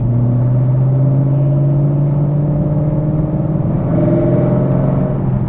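A 2020 Chevrolet Camaro 1SS 1LE with the track performance package accelerates, its V8 engine note rising steadily in a loud, close, continuous drone heard from inside the cabin, with no voices over it.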